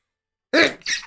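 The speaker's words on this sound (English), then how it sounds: "Sneezing." A single sharp sneeze, close and loud, bursting out of silence in two quick parts.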